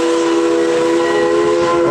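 A Big Boy steam locomotive whistle blows a steady, loud, multi-toned chord that sustains throughout without a break.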